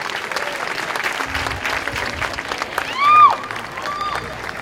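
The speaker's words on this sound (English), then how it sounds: "Please give your family and friends a round of applause for always being there for you in their own special way." Families and friends at a university graduation ceremony applaud in a steady, moderately loud patter, with whoops and cheering voices breaking out over the clapping partway through.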